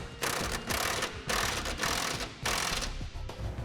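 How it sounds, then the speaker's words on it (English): A ratchet tightens 3/4-inch bolts on a gooseneck trailer hitch under a 2007 Ford F-350 Super Duty, giving four or five quick bursts of close metallic clicking with brief pauses between strokes. "next we'll go ahead and tighten the 3/4-inch bolts, the one on each side"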